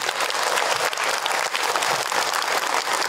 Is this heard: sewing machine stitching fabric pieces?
no